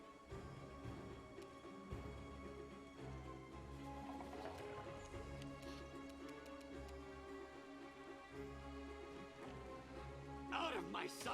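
A horse in Pathfinder: Wrath of the Righteous clip-clops and snorts beneath layered game music and effects, with a burst of louder activity near the end, moderately quiet.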